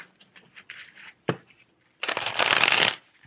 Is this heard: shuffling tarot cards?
yes